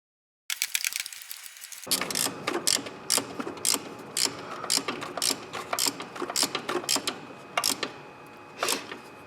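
Ratchet wrench clicking in quick repeated bursts while tightening the bolts of an AC compressor bracket on a 2002 Toyota Avalon, close and crisp, with brief pauses between strokes.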